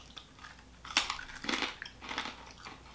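Someone chews a crunchy UK snack close to the mic, giving a few sharp crunches followed by softer irregular crackling bites.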